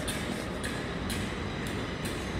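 The Night Riviera train rumbles steadily at a station platform, with a broad roaring noise and regular rhythmic clatter from the wheels.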